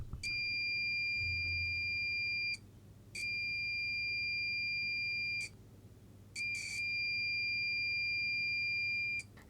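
An obstacle-sensor buzzer on a hobby electronics doorbell sounds in three long, steady high-pitched tones, each lasting a couple of seconds, separated by short pauses, fairly clear against a low background hum.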